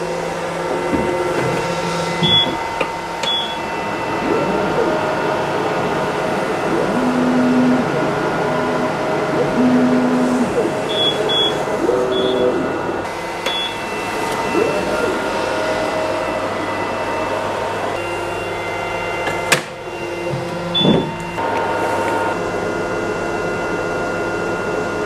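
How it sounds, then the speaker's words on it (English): An xTool M1 laser machine cutting plywood on a prism bed gives a steady, close whirring hum with a few faint high beeps and small clicks, and no one speaking. "Whilst the laser machine is working"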